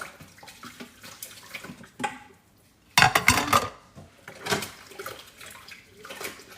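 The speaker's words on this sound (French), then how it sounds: "c'est long comme vaisselle" Dishes, pots and cutlery being washed by hand at a kitchen sink, with close, irregular clattering and clinking bursts over running water and a brief louder crash of pans midway.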